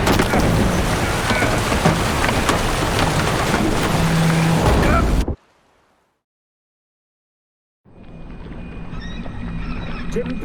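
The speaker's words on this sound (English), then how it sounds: "Didn't bargain for no storm." Heavy rain and rumbling storm noise at sea, loud and dense, cut off abruptly into near silence for a few seconds before the downpour returns, from a video game voyage scene.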